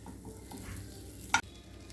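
Butter melts in a pan on a stove with a soft, steady sizzle and one sharp scrape partway through.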